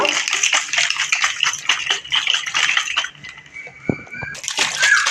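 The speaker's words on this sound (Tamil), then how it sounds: "இதே மாதிரி நல்லா ஷேக் பண்ணி எடுத்துக்குங்க" A glass of kulki sarbath with mint being shaken, giving a steady run of rhythmic liquid sloshing and clinking that stops briefly and then resumes, fairly close and loud.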